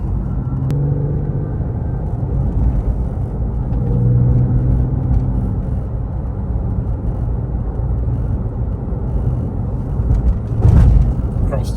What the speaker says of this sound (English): just let you hear the car go down the road